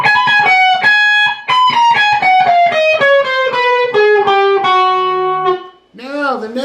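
Distorted electric guitar plays a quick descending lick from a rock song, with a high string bend and rapid picked notes stepping down, loud and close, then a short burst of talk at the end.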